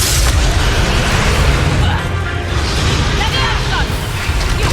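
In Hogwarts Legacy combat, a Confringo fire spell explodes with heavy booming bursts. The blasts sit inside a dense, rumbling wash of noise.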